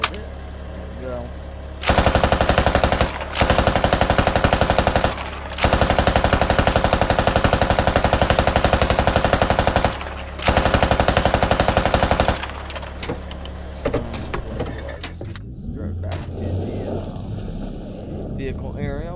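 Sustained machine gun fire from a vehicle-mounted weapon in the Squad military shooter, loud continuous bursts in four long stretches with short gaps, fading into engine rumble and a voice talking at the end.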